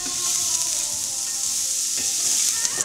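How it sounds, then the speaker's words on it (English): Onion sautés in bacon grease inside a Dutch oven, a loud, close, continuous sizzle and crackle of frying with a faint stir near the end and no voices. "This is one of the best smells in all of cooking, onion frying or sauteing in bacon grease."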